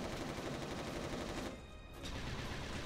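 Rapid gunfire from a Resistance Retribution battle fills the first half and a half seconds as dense, continuous automatic fire. It breaks off briefly, then the loud, steady shooting resumes.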